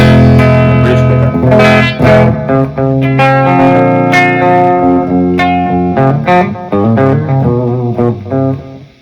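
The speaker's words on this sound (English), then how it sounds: "It's like, no, that's a distortion pedal." Electric guitar on the bridge pickup runs through a distortion pedal into a 1979 Marshall metal-panel Plexi amp, loud and saturated, playing sustained chords and riffs with rich harmonics and no talking.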